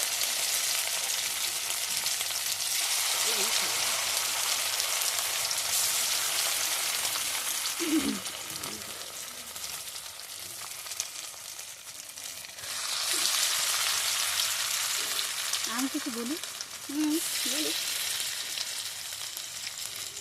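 Chicken pieces fry in hot oil for a restaurant-style Chinese dish, a dense sizzling hiss that swells and eases, with a few faint knocks and clinks and no speech.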